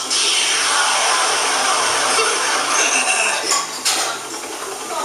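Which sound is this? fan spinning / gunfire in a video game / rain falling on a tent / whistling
fan spinning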